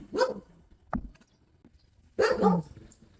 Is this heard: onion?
no